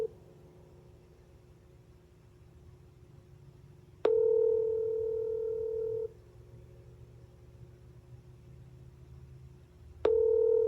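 A phone ringback tone sounds in two long electronic tones separated by silence, with faint line hiss between them.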